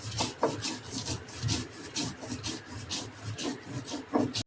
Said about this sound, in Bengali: সর্ষে পোস্ত, সাদা সর্ষে, কালো সর্ষে, পোস্ত আর কাঁচা লঙ্কা, এটা আমি বেটে নেব।